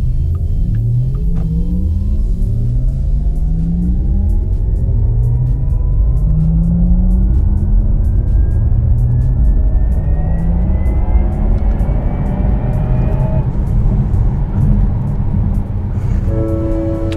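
A Porsche Taycan S electric sports car accelerates with a rising whine climbing steadily in pitch over a deep, continuous rumble, loud and close, with no talking.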